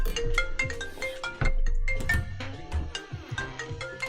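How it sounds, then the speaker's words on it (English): A mobile phone ringtone plays a bright repeating melodic pattern, loud and near, cycling through several notes over a few seconds with no talking over it. "phone's going off."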